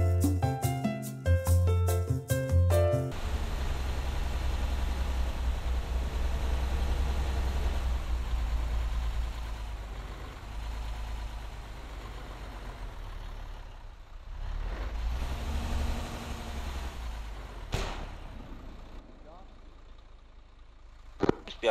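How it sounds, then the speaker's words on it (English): Truck engines idling in ARMA 3: a steady low rumble that holds for most of the stretch and fades toward the end, with radio-style voices talking over it. "All hitman teams, turn off your engines."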